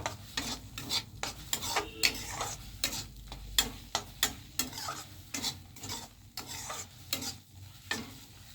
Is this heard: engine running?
no